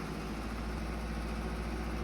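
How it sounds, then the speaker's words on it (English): A tractor engine in Farming Simulator 22 runs at a steady low idle with a deep, even rumble that stays close and unchanging throughout, with no talking over it. "It is such a nice tractor."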